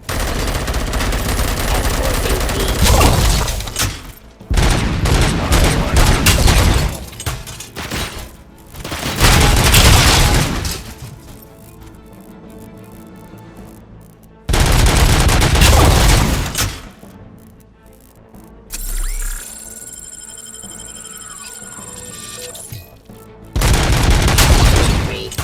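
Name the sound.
gunfire from a sniper in the video game Robocop Rogue City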